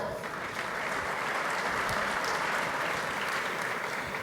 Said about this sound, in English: Another round of applause for our first panel